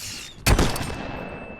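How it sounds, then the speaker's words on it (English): A flashbang grenade goes off in the game RoboCop: Rogue City, one sudden loud blast followed by a ringing high tone and a fading rumble. "Flashbang."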